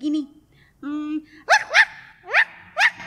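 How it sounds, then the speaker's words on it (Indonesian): Several short, yelping dog barks in the morning, spaced in a loose sequence after a couple of tonal vocal sounds, close and fairly loud. "mereka tidak suka kalau Gugi menggonggong setiap pagi"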